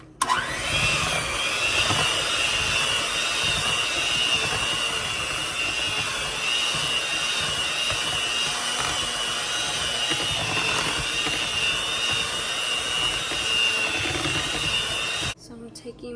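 An electric mixer runs steadily at low speed, beating an egg and vanilla extract into cream cheese for a mini cheesecake batter, a continuous close whirring hum that stops abruptly near the end.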